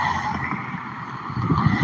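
Steady rush of car traffic going by, broadband road noise with a tire-swish quality, fairly loud and continuous without a break, no voices.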